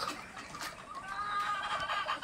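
A backyard flock of chickens clucking and chattering continuously nearby, a busy sound with overlapping calls and steady background noise.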